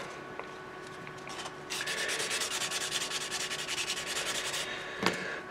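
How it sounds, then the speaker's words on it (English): Fine grit sandpaper smoothing a wooden oar blade, a steady near rasping rub that runs for about three seconds with a few short strokes before it and a brief knock near the end, with no voices. "And then with a fine grit, I'll smooth it."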